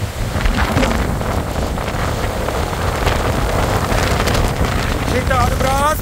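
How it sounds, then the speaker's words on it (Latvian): Very strong wind with wet snow roars and buffets the microphone beside choppy water, a dense, loud, unbroken rush with waves churning underneath and faint creaks near the end. "Rīktīgākais vējš."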